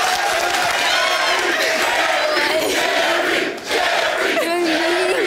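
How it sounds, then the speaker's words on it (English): A talk show studio audience roars and hollers wildly, a loud, sustained crowd cheer with whoops and shouts rising over one another, dipping briefly before surging again. "And the guys in the crowd go wild."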